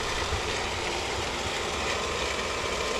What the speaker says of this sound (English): Sorry about the noise in the background. The pool pump is running.